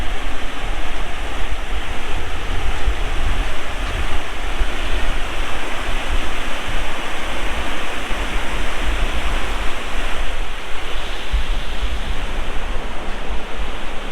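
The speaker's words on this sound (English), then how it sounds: "So here we are, getting to take in a look at a waterfall." Waterfall on the Pueblo Riverwalk in Colorado, a steady, loud broadband rush of falling water that holds constant throughout with no talking.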